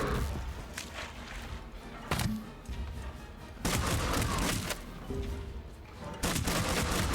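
Shotgun blasts in Scrap Mechanic during a raid on bots: several loud, sharp booming shots spaced a second or more apart, with rattling game noise in between.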